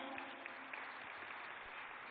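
Audience applause welcoming a speaker on stage at a convention inauguration ceremony, a steady dense wash of clapping filling the hall for about two seconds without a clear break.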